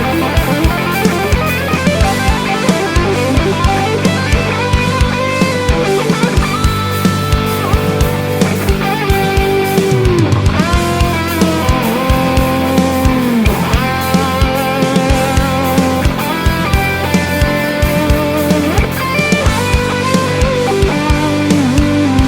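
Electric guitar played through a Joyo UZI Marshall-in-a-box distortion pedal, loud and saturated, with chugging rhythm chords and sliding lead notes over a steady backing beat, no talking.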